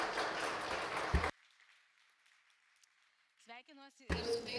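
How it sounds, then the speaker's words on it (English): Conference audience claps together in a steady, broad wash of applause for about a second, then it cuts to near silence before a voice begins speaking. "let's start with a round of applause"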